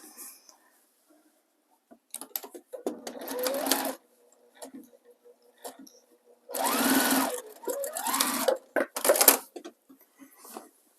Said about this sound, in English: I'm going to stitch from this corner to this corner.